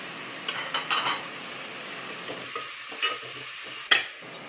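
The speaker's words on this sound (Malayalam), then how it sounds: "ഇനി ഇതിലേക്ക് പച്ചമുളക്, വെളുത്തുള്ളി, ഇഞ്ചി എന്നിവ ചതച്ച് വെച്ചത് ചേർക്കുക. ചേർത്ത് നന്നായി വഴറ്റി കൊടുക്കണം." Crushed green chilli, garlic and ginger sauté in a pan, a spatula scraping and clinking in intermittent strokes over a constant low sizzle, nearby and moderately loud without speech.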